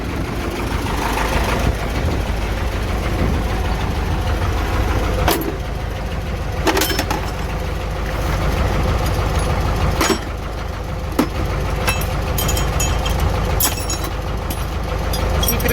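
An old T-74 tractor engine idles with a steady low rumble and a persistent mechanical knocking. A few sharp clanks punctuate it, and the engine runs close by and alone.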